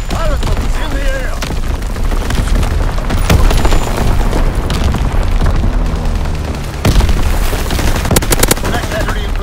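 Loud, dense wartime battle noise in Call of Duty WWII during an aircraft strafing run on the Shipment 1944 map, with booms and rapid gunfire bursts going on throughout and heavier blasts near the middle and end.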